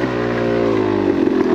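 A 2021 Yamaha YZ250X two-stroke dirt bike revs hard and steadily while riding through woods, its loud engine close and continuous, with no talking.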